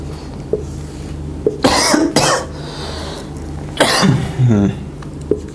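Two bursts of coughing, the second a short double cough, close and fairly loud, with a few small clicks and a low steady hum between them.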